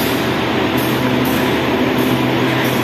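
A commuter train at Sidoarjo station in Indonesia gives off a loud, steady low rumble and mechanical hum, close by and continuous, with no voices.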